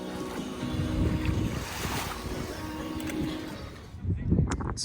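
Ocean waves wash onto a Cape Cod beach with a steady roar, heavy wind buffeting the microphone throughout and a louder surge near the end.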